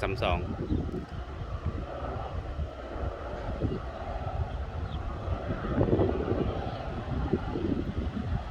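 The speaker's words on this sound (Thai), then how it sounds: "เสียงเร่งเครื่องมานี่ กระหึ่มครับ" A GEA diesel locomotive's deep, rumbling engine drones steadily and swells louder toward the middle as it accelerates through Ban Han station, Thailand, with a voice talking over it.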